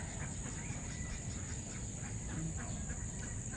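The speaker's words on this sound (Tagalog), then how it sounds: "Maraming duck dyan." Ducks quack from a small creek in the early morning countryside, faint and partly buried under steady insect-like buzzing and low background rumble, with no talking.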